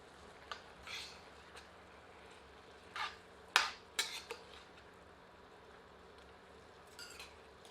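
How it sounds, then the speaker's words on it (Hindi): Mutton curry being stirred in a pot after hot water is added: a few scattered metal spoon scrapes and clinks against the vessel, soft and close, separated by quiet gaps, with no speech. "अब इसमें 1 कप गर्म पानी सम्मिलित करते हैं और इसे मिला देते हैं।"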